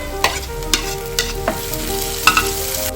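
Tomato goes into browned onions frying in a pan for mango mutton curry, a constant sizzle broken by several sharp scraping strokes of a spoon stirring, close up with no voices.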